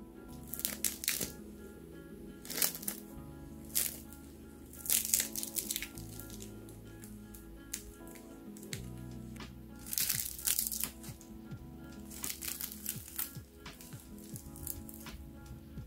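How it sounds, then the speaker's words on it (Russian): Repeated crisp crunching bursts of a sugar-dusted baked croissant crust being pressed and broken, close up, over faint soft music. "И только послушайте, какой хруст!"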